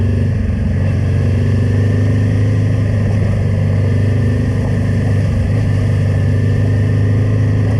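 A motorcycle engine pulls hard and loud at close range, a low steady drone with slight shifts in pitch as it moves up through the gears.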